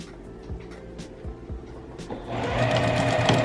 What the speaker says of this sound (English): Just going to backstitch right there